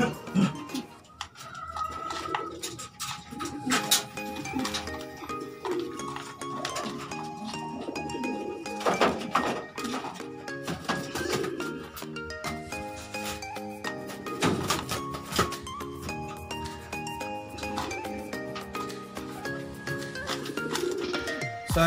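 Pigeons around a home loft, a steady busy layer of bird calls and soft cooing with occasional wing rubs and small clinks, close and continuous with no talk.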